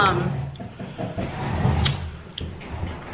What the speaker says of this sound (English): that door is so loud